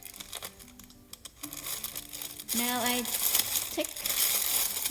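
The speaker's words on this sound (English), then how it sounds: "I will put in the plastic bag, the piping bag." A plastic piping bag being filled with chilled lemon butter madeleine dough crinkles and rustles, loud and close, while a person talks briefly and music plays in the background.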